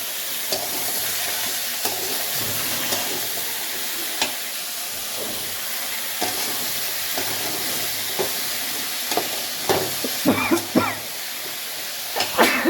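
Vegetables frying in a pan with panch phoron, chili and bay leaf, a constant sizzle under intermittent scrapes and knocks of stirring, clattering more busily near the end.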